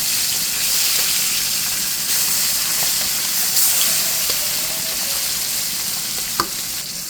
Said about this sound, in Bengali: মাছটা উল্টে পাল্টে ভেজে নিচ্ছি।